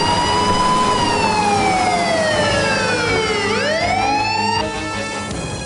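An ambulance siren wails loud and near, its tone sliding slowly downward, then swooping back up before shifting pitch, with no speech over it.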